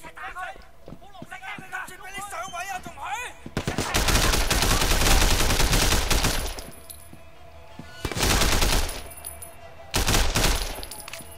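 Assault rifle fire in the game Sleeping Dogs: loud, sustained automatic bursts with a shorter burst and a final burst after it. Someone talks in the opening seconds before the shooting starts.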